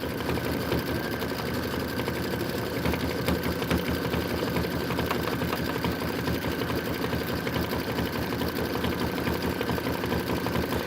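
A sewing machine stitching out an autumn quilt border, a fast, steady mechanical chatter of needle strokes with a continuous motor hum, close and even throughout with no talking.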